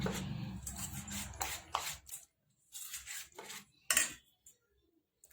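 Quiet, intermittent bursts of a spoon scraping and clinking against a bowl as dosa batter with coriander is stirred, separated by short silent pauses.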